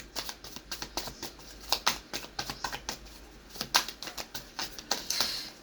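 Tarot cards are shuffled and drawn from a deck in a quick run of crisp, papery flicks and taps, close by and without talk.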